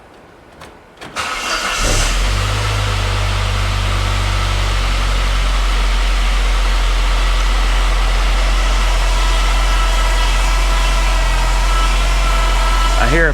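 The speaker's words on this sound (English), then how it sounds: "I hear a power steering whine, but it's not rattling." A Saab 9-3 Turbo engine with low oil pressure cranks and catches, then runs steadily at a loud, close idle, with a constant power steering whine over the engine drone.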